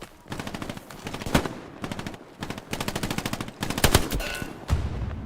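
Gunfire in the World War II shooter Hell Let Loose, rapid machine-gun bursts with sharp single shots scattered between them, loud and near, repeating across the whole stretch.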